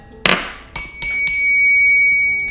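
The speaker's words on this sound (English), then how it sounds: "Let me ring the bell." A small hand bell rung several times in close succession, each bright metallic strike ringing out sharply and leaving a sustained tone that hangs and slowly fades between hits, with no talking.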